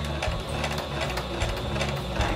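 A sewing machine stitches a Smart Doll garment, tacking inside the seam allowance. The motor whirs loud and close in a steady rhythmic run of stitches.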